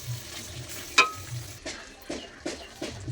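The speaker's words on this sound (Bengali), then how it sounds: "গরম মশলাটা দেওয়ার পরও আমি এভাবে 30 মিনিট 30 সেকেন্ড নাড়াচাড়া করে নেব।" Paneer butter masala with freshly added garam masala is stirred in a pan: a quiet simmering sizzle broken by several distinct scraping strokes of the spoon, close and unaccompanied by speech.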